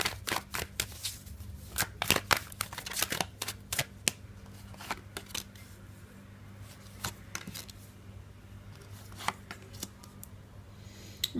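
Tarot cards shuffled by hand in irregular bursts of crisp riffling and tapping, close and fairly quiet, with no talking.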